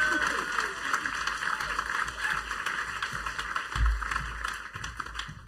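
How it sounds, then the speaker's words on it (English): An audience at a poetry and dub performance claps continuously, a dense patter of many hands at moderate volume with a steady, even texture. "One more time, give a round of applause."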